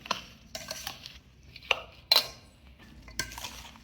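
Mango pickle is stirred with added oil in a container using a utensil, producing irregular scraping, clinks and knocks of metal against the vessel, close up with no talk.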